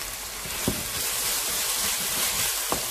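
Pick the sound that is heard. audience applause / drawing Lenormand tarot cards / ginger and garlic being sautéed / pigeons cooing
ginger and garlic being sautéed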